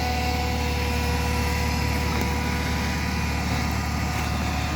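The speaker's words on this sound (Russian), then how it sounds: "вы можете видеть и слышать работу двигателя. Бензиновый двигатель работает очень" A petrol engine on a Toyota 6FG15 forklift runs at a steady idle, an even, smooth mechanical drone with a constant low throb and no talking over it.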